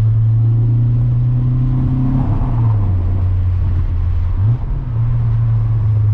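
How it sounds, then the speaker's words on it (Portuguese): A car engine rumbles nearby and revs up in a couple of surges, the pitch climbing and dropping back over a steady idle. "E eu gosto sempre de dar uma aceleradinha,"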